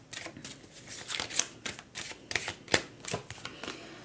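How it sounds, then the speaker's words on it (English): Tarot cards being shuffled and pulled from a deck during a reading, producing close, crisp riffling and snapping card sounds in quick irregular bursts. "Let's pull more cards."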